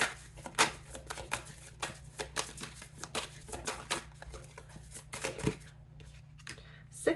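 Tarot cards are shuffled by hand in quick, crisp riffling bursts and flutters close to the listener, with brief pauses between runs.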